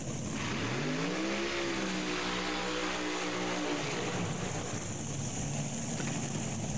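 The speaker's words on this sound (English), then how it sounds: "Taylor Vetter heating the tires" A top alcohol dragster at the NHRA Four-Wide Nationals heats its tires in a burnout: a loud engine roar climbs sharply in pitch, holds a high, steady scream, then fades under broad track noise.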